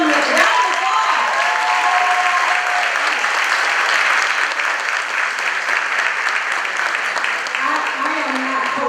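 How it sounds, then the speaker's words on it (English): Sustained applause from an audience at a high school cord ceremony honoring students, steady and dense for the full length, with faint voices rising through it near the start and end. "give these talented kids some round of applause"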